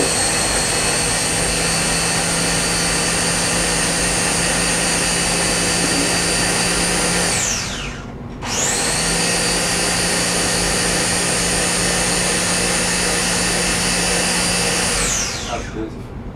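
A blender juicing watermelon roars loud and steady, stops briefly with a falling whine, then starts again and runs before winding down at the end.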